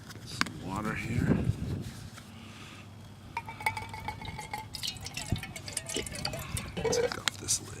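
Water is poured into a metal camping cup at a park campsite, a soft trickle and drip with light clinks close up, and someone speaks briefly at the start.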